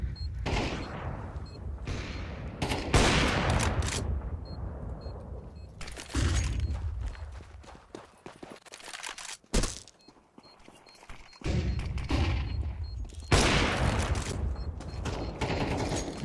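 Counter-Strike 2 gunfire in a competitive match, rapid bursts and sprays of shots in clusters with brief gaps, loud and close, mixed with clatter and footsteps.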